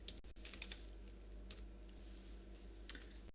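Quick, soft keystrokes on a computer keyboard as a search term is entered, a short burst of clicks, a pause, then a few more taps, close and quiet over a faint steady hum.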